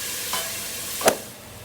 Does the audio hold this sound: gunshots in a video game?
no